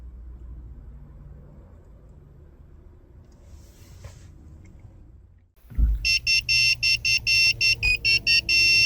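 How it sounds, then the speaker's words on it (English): A 2008-2017 Ford Taurus chimes after key chip programming. A quiet hum is broken by a thump, then a loud, regular series of about nine sharp electronic beeps follows in steady rhythm. "After 10 minutes, you'll hear a beeping tone, which means that the key chip programming was successful."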